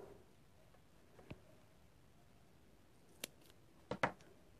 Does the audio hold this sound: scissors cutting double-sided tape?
yes